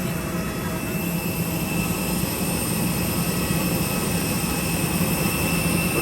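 A parked airliner jet engine roars steadily at an airport, a loud continuous broadband rumble and whine that fills the whole stretch with no pauses and no speech.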